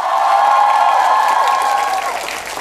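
An audience on a televised singing competition stage applauds steadily, with sustained music and held tones sounding prominently over the clapping throughout.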